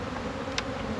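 Honey bees at a full-size hive give off a brief, steady buzz lasting about a second, fairly close and moderately loud.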